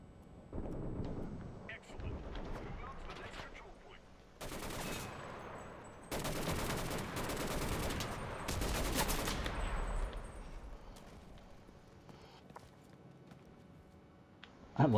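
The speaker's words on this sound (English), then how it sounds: "I love this machine gun that they dropped." A DShK heavy machine gun fires in bursts in the World War II shooter Enlisted, loud sharp volleys in two or three clusters with quieter battle noise and faint distant shots between them.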